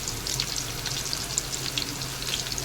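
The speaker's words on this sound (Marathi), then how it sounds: "तेलामध्ये कांदा परतवून व्यवस्थित शिजवून घ्या" Onion sautés in oil for prawn biryani, a constant close sizzle with fine crackling spatters over a low hum and no talking.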